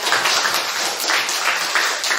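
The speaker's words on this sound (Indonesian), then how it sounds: "Tepuk tangan untuk saya" Clapping in a classroom as a small group of students applauds a correct answer about rice farmers, a steady patter of hands lasting a couple of seconds at moderate volume.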